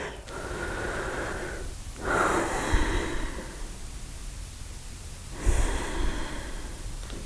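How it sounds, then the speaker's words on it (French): Slow breaths out and in during a breathing exercise, long soft airy exhales and inhales close to the microphone, with a couple of sharper nasal intakes. "J'expire, j'inspire. J'expire, j'inspire. J'expire."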